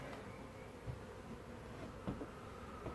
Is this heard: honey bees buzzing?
yes